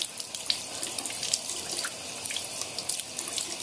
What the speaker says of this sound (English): now the water is running clear